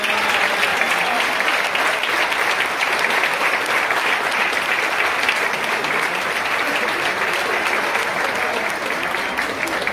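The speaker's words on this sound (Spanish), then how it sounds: "Un fuerte aplauso a Rafael Joglar San Miguel" Steady, sustained applause from a golf tournament crowd for a player at the summer championship in Llanes, dense clapping at even loudness throughout with no talk over it.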